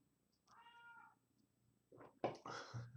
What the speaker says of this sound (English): My cat's being really, really chatty today.